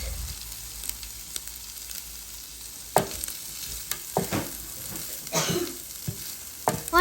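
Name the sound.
prawns stir-frying in oil with garlic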